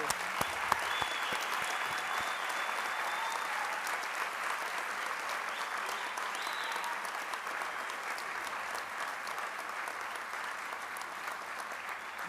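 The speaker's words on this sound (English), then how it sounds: "we will give you a round of applause as you do so" An audience at a university graduation ceremony claps continuously in a large hall, giving a steady, even roar of applause that holds throughout with only slight fading.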